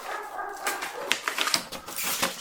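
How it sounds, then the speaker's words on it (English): A dog barks and whimpers faintly in the background, with a few short, scattered yelps. "Excuse the dog barking in the background there."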